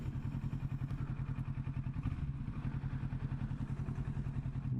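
A motorcycle engine rumbles steadily up close while the bike pulls away and rides off, a low pulsing drone with some clatter and no talk.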